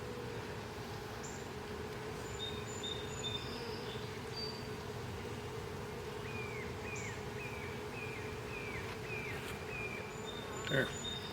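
A dense, steady buzzing of many honeybees close by during a hive inspection, continuous throughout, with a few faint higher chirps above the hum.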